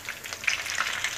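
Crispy shrimp rice rolls deep-frying in hot oil, giving a steady, close, bright sizzle with crackling pops throughout and no talk.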